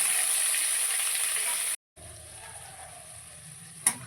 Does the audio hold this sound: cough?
no